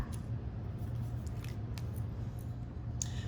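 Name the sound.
scissors cutting paper around a pencil line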